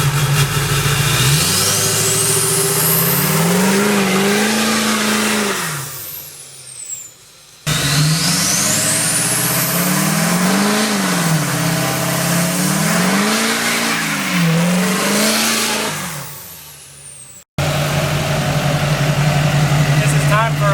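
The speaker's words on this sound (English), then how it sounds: "I can do like a little burnout and then just kind of roll in it a little bit" Boosted car engine revving hard through a short burnout, loud rising and falling engine tone with repeated surges, a brief cut, then steady high revs; voices are heard faintly in places.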